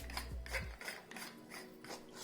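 Threaded grip of a TXQ Darth Revan lightsaber with a glitter black chassis being unscrewed, giving a quiet close rasping, ratcheting scrape in repeated short turns.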